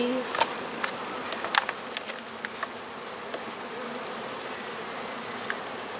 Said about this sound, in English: bees. You guys can hang out with Maddie.